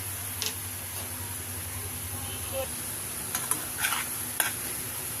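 Liver fries in a pan while being stirred, a soft steady sizzle under scattered clinks and scrapes of a utensil against the pan.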